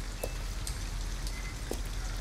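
Steady rain falls in Detroit: Become Human, with a constant wash of drops and a few sharper patters, close and even throughout.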